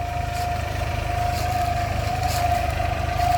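A New Holland tractor with a front loader and backhoe, used for digging cassava, runs with a steady, throbbing engine idle, close and loud with a constant low rumble and no talk.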